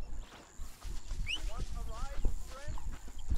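Horse hooves clip-clop at a walk in the Western game Red Dead Redemption, with irregular close thuds under a voice, and faint whistling bird-like chirps scattered above.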